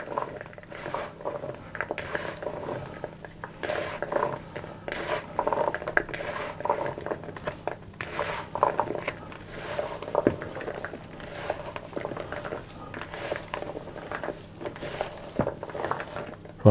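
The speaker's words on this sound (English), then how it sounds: "I'm just going to use my hand to toss that around" Chickpea salad with parsley and mint is tossed by hand in a bowl, giving soft, steady wet patter and light rustling with faint clinks, close and fairly quiet throughout.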